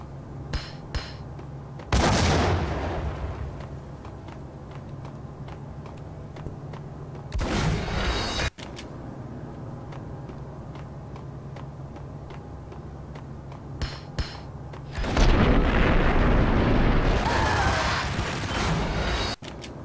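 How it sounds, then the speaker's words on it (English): Grenade blasts from the shooter video game Max Payne: three loud, broadband bursts spaced several seconds apart, with quieter ticks and clicks of gameplay in between. "I don't know how that grenade keeps hitting me."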